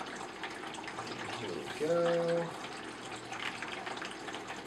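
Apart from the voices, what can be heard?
water pouring from a tap for mixing film stabilizer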